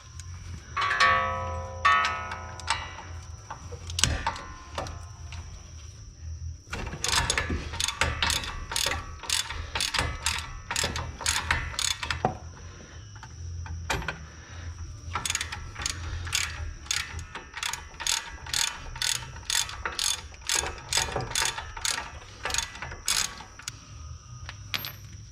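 Ratchet clicking as a tool removes the front brake caliper bracket bolts on a 2012 Chrysler 200, with long runs of rapid, loud close-up pawl clicks broken by short pauses and no talk.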